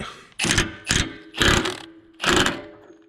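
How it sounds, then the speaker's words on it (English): An impact wrench fitted with an impact socket works on the center joint of a Hitachi EX-30 excavator, firing in four loud, close bursts of rattling hammering separated by short pauses. "I couldn't get it with the wrench, so I got the impactor socket."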